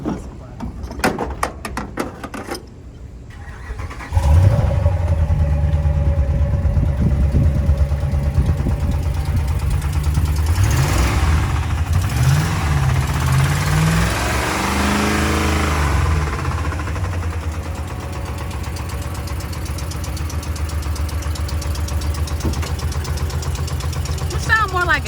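A cheap $700 used Mercedes car starts with a clatter, then its engine idles with a steady, rumbling exhaust drone, heard up close for over twenty seconds while people talk nearby.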